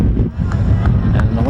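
Wind roars and buffets the microphone at an outdoor high school baseball game, a loud, dense, low rumble that runs without a break through the whole short stretch.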